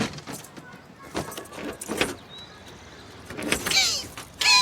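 Keys jangle in a small metallic rattle inside a car, mixed with a power window's whir and cabin movement, bright chiming bursts rising near the end.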